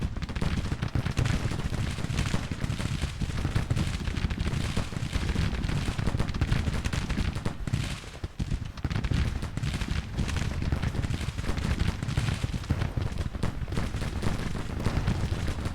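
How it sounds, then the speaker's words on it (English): Dense, continuous rattling video game gunfire in a Civil War battle fills the whole stretch, loud and unbroken, with rapid bursts blending into a constant roar of battle noise. "A little hard to hear over the gunfire"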